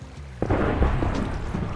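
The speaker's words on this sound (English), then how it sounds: "it's a thunderstorm" A thunderstorm in a Minecraft-style video game: a sudden rumbling thunder crack breaks in after a quiet start, followed by a sustained rolling roar with a steady rain-like hiss.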